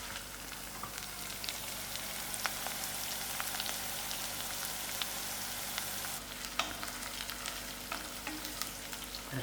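Onions frying and browning in a pan while Sem and Gadra beans are prepared, a steady close sizzle and crackle with scattered sharp pops throughout, no voices.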